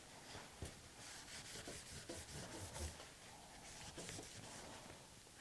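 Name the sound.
hand rubbing milk paint off wood to distress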